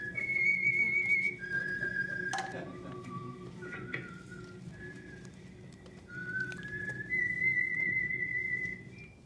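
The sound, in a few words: whistled signature tune of a radio program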